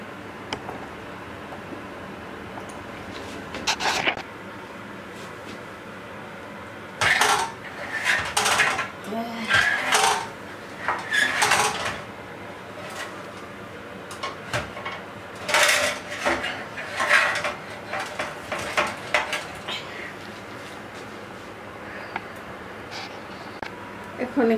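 A turkey in an oven pan gets basted and turned over: metal pan and utensil clanks and scrapes come in clustered bursts between quiet stretches, close and fairly loud.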